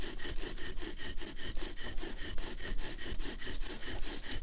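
Bow drill spinning a basswood spindle against a basswood fireboard, a steady rhythmic rasping and sawing friction in rapid back-and-forth strokes, close and loud throughout.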